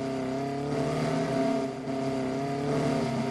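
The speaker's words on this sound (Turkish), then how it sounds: "Bildiğiniz BMW M4 sürüyorum şu an" A BMW M4 engine in Minecraft revs steadily and loudly with sustained harmonic drone, rising slightly in pitch, with no talk over it.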